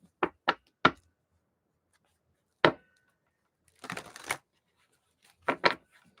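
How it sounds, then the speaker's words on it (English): Tarot cards being shuffled with some difficulty, heard as a few sharp close taps and riffles separated by pauses, then a longer rustling burst and a final pair of snaps, all without talk. "I'm having a hard time shuffling."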